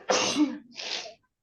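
A single person sneezes sharply, followed by a softer second burst, close and loud indoors during a class session, with no talk over it.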